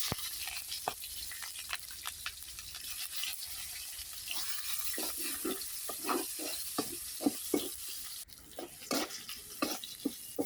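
Onions frying in a pan after oil, bay leaf and garam masala, with a steady sizzle and repeated scraping stirs that grow more frequent toward the end; no talking.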